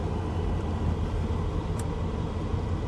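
A Chevrolet Suburban driving along a road on a short test drive, its steady low engine rumble and road noise filling the whole stretch without a break.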